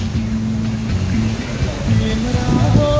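Water rushes and waves wash in a steady, loud wash of surf. Voices talk and exclaim over the sound.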